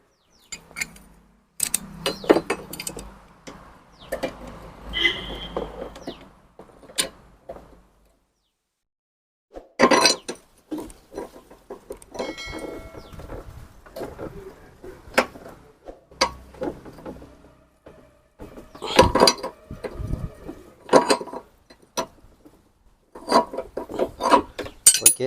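Metal tools rasp, scrape and clink while the fork top nut on a Honda Activa scooter is loosened, in short irregular bursts separated by quiet pauses.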